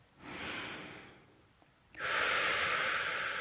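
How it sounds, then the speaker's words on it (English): A slow, deep inhale followed by a softer exhale, then a stronger second airy breath, close to the microphone with no speech. "Take a deep breath with me again."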